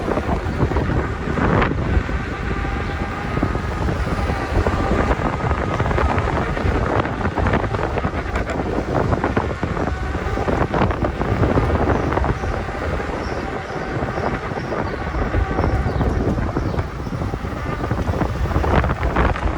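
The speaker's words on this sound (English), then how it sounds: "It's a little windy." Steady, heavy wind buffeting a microphone in New York City between the Upper East Side and the Bronx, a loud continuous roar with gusty rumbles throughout and no voices.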